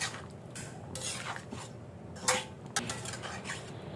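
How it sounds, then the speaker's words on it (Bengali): A spoon stirs ground spices into a country chicken dish in a pan, giving soft scraping strokes and a few sharper clinks of metal on the pan, quiet and close, with faint sizzling underneath. "আমি একটু নেড়ে দিই"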